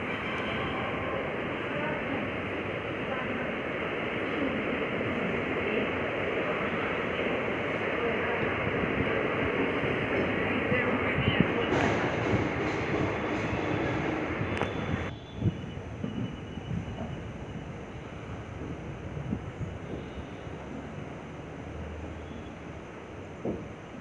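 An 03010 YNRK–Howrah express train pulls out of a railway station with a steady, loud rumble and rattle of wheels and carriages. The tone shifts and thins partway through, and no one speaks.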